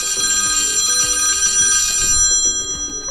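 The old phone ringtone on an iPhone 11 Pro rings out as a loud, bright, rapidly trilling telephone bell, sustained for about two seconds and then fading.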